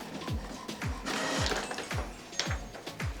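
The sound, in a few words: inkjet printer printing with sublimation ink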